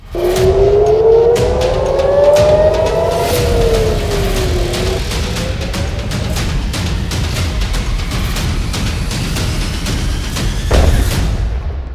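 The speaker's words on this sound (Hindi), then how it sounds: "राजधानी तेल अवीव और जेरूसलम में सायरन बजने लगे।" Loud wailing air raid sirens rise and fall in Tel Aviv and Jerusalem during an Iranian drone and missile attack, over a rumbling, crackling background with sharp bursts, continuous throughout.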